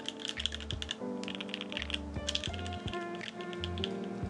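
A Phantom 65 mechanical keyboard fitted with Queen switches is typed on steadily, with crisp close-up key clacks falling in an even, continuous rhythm and a slight bouncy rattle, with no talk.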